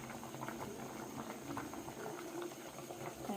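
Malvani-style crab curry boils in a pot, a soft continuous bubbling and popping of thick liquid, quiet and steady throughout, with no voices.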